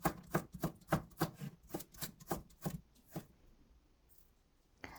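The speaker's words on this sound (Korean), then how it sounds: "먼저 오이를 십자로 잘라서 씨를 제거하고 얇게 어슷썰기 해줍니다" Knife slicing a seeded cucumber thinly on the diagonal against a cutting board, about a dozen crisp, evenly spaced chops close up, then stopping into quiet with one last faint tap.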